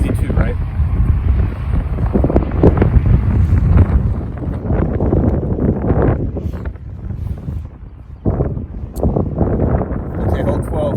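Strong wind buffets the microphone on an open disc golf course, a steady loud roar with gusts rising and falling throughout, while someone talks over it.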